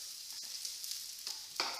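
Stuffed Moroccan aubergine ratatouille ingredients going into a hot pan, a soft steady sizzle close by with brief stirring scrapes and a louder hiss near the end.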